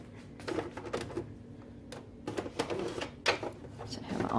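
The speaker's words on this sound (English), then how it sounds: "Now let's try the typewriter." Irregular mechanical clacks and clicks from an electric typewriter, with bursts of keystrokes and brief pauses and a low hum underneath.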